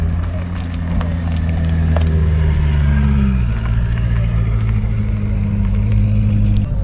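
Supercar just pulled up at a Cars & Coffee meet, its engine rumbling with a steady, deep low drone close by, the pitch shifting slightly midway.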